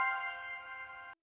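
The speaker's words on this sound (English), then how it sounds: "Once the QR code is scanned, you will hear a distinct chime sound from the camera." An Arlo security camera gives a single bright electronic chime after its QR code is scanned, a clear sustained tone lasting about a second and then cutting off cleanly.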